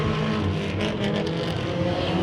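Race cars roar together around the track in a heat race at Bakersfield Speedway, a dense, steady engine drone with slight surges as the pack revs back up to speed.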